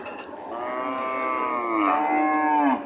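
A cow moos at a busy cattle market in Jamalpur, Kaliakair, Gazipur, one long drawn-out low call close by that holds steady before rising at the end.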